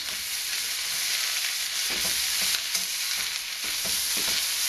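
Dried red chilies are stirred in hot oil for Sichuan string beans: a steady close sizzle with repeated scraping strokes of a utensil against the pan, no voices.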